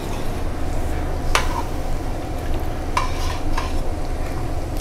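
Carbonara pasta sizzles loudly and steadily in a hot pan, with a few sharp scrapes of stirring on top.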